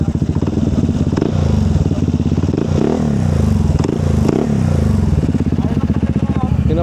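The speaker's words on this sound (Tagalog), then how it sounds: "I-rev natin ng konti." A remapped Honda ADV 160 scooter engine is revved up close in short, throbbing bursts, a loud, pulsing idle that blips and settles several times.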